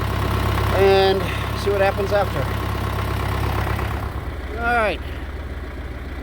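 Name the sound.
old tractor engine idling while warming up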